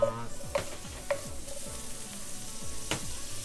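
Mushrooms stir-fried over high heat in a pan give a bright steady sizzle, with a few scraping strokes and light clinks of a utensil up close, and no talk.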